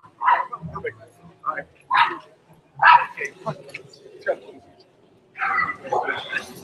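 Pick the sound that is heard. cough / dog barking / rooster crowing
dog barking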